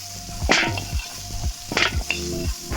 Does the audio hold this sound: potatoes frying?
yes